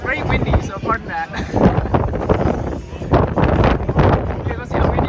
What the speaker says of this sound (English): It's very windy, so pardon that.